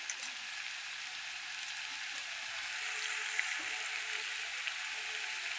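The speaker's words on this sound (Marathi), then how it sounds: "मस्त मसाला भाजू द्यायचा असा तेलात." Masala spice paste with turmeric fries in hot oil, giving a steady, close, loud sizzle and hiss that runs unbroken, with faint stirring underneath.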